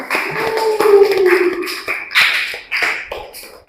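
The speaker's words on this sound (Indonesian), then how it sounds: "beri aplaus untuk kelompok 5" A classroom applauding a student group after their presentation, scattered irregular clapping from several pupils, close and moderately loud, with some voices mixed in.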